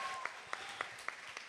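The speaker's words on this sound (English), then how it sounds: "round of applause." Audience applause at a CultureCon event, a broad wash of clapping with several sharper claps standing out in a steady rhythm, fairly close and fairly loud, with no talking.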